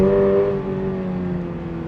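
A Toyota GR86 with a naturally aspirated engine revs, a loud, steady engine note that eases off slightly and then holds at a smooth, sustained pitch, close and alone.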